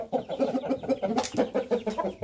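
A chicken clucks in a quick, rhythmic series of short calls, close by and clear, with a brief squawk midway.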